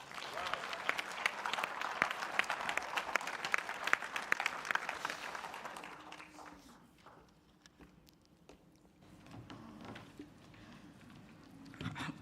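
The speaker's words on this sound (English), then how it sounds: "That definitely needs another Cathsseta round of applause." Conference audience applauding after a speech, a dense wash of clapping for about six seconds that thins out and fades, followed by quieter room sounds and faint talk.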